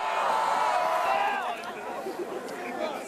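A large outdoor crowd cheering and shouting at Punxsutawney as groundhog Phil is lifted into the air, a loud mass of voices with whoops that eases slightly after a moment.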